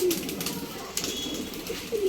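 Pigeons coo close by in a short burst, with low soft throaty calls over a steady bed of background noise.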